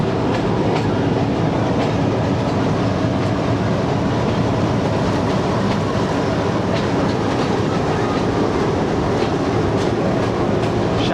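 Inside a passenger coach of the 125UP Lasani Express between Lahore and Baddomalhi, a loud steady rumble of the running train fills the air, with faint rhythmic wheel clatter and no speech.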